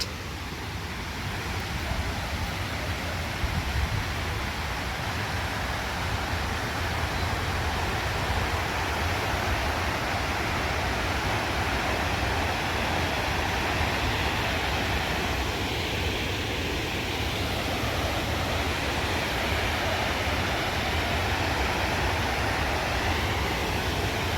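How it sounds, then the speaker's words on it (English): Steady, broadband roar of a waterfall fills the scene, constant and unbroken throughout, with no voices. "This is the waterfalls"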